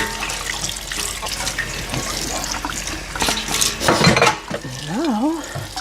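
Kitchen tap water runs while dishes and utensils clink in a sink during dinner preparation, a steady close wash of water with metallic clatter, ending with a brief rising and falling tonal whine.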